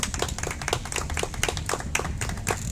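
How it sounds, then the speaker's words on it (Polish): A small audience in Tykocin claps to welcome the artist onstage at an album launch; individual sharp hand claps stand out, close and fairly loud, over a low murmuring background. "Wielkie brawa, witamy."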